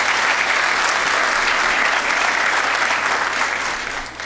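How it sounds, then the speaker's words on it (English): A large audience gives loud, sustained applause at a county state-of-the-county address, dense clapping that fills the hall and begins to taper off near the end. "let's give them a round of applause"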